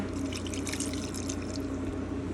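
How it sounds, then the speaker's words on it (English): Water is poured into a pot of old-fashioned beef stew, a soft steady trickling and splashing that stays quiet throughout. "I'm going to add a little bit more water."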